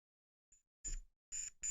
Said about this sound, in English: Do you hear that? That's the alarm.